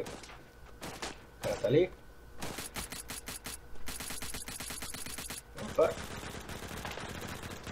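Rapid bursts of gunfire from the battle royale shooter Badlanders crackle in clusters, some close and loud and others thinner and farther off, while someone talks excitedly over them.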